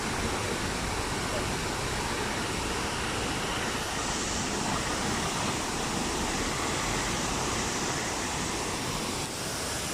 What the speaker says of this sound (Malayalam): അടിപൊളി വെള്ളച്ചാട്ടം ഗൈസ്.